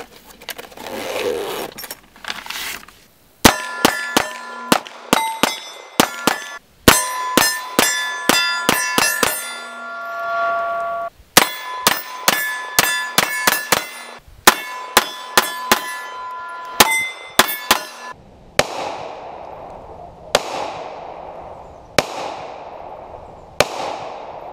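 A Browning BDM 9mm pistol fires at an outdoor range at 7 yards, a series of sharp, loud reports in quick strings with short gaps between them and a few slower, more spaced shots near the end.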